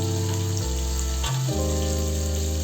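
Curry leaves sizzle in hot oil for a khichdi, a steady close frying hiss throughout with a slight crackle, no voices.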